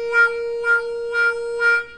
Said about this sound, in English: normal wah-wah sound like this